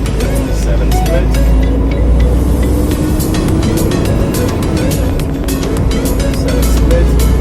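A Peterbilt truck's engine drones loudly and steadily from inside the cab while the driver shifts an Eaton 18-speed manual transmission, the rumble holding constant with faint clicks on top.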